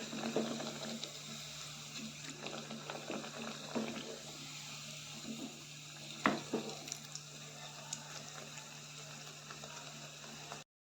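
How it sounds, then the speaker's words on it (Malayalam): Parippu vada lentil fritters deep-frying in hot oil: a steady, dense crackle and bubbling that runs on, with occasional louder pops and knocks from turning the fritters. "ഈ വട എല്ലാം ഓരോന്നായിട്ട് പൊരിച്ചെടുക്കും ഇത് ഇനി ഒന്ന് മറിച്ചിടാം"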